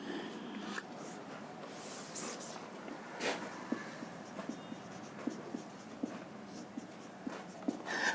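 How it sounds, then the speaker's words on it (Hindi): Writing out a definition on a board: soft, quiet scratching strokes with small tapping ticks at a steady pace, close but faint, without speech. "चलिए मैं परिभाषा लिखता हूं"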